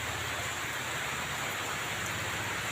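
Steady rain falling outdoors after a sunny spell, a dense even hiss with no breaks, moderately faint and continuous.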